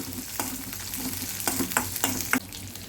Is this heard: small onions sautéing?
yes